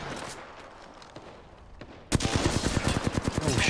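Gunfire in the shooter game Apex Legends: after a muffled stretch, loud rapid automatic bursts break out abruptly, a dense rhythmic string of close shots.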